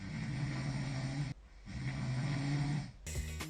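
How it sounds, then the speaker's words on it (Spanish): Snoring of a sleeper recorded overnight without nasal strips: loud, rasping breaths in long sustained pulls, two heavy snores separated by a brief quiet gap, then a choppier third breath. "Lo mal que duermo y cómo ronco."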